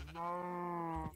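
A single sheep bleat from Minecraft, a clear close nasal baa held for about a second with a steady wavering tone.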